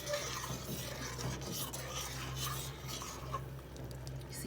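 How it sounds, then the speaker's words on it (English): A spoon stirs thickening gravy in a pot of Ital stew peas, giving a quiet, continuous rasping swirl against the pot with soft scraping. "We're gonna slowly add it and stir."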